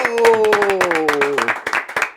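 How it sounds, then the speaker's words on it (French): Audience claps loudly to welcome a guest on stage, sharp rhythmic claps with a held musical tone or voice sustained underneath during the first part, clapping continuing alone afterward. "Je vous demande d'applaudir, mais alors là, c'est très, très, très fort."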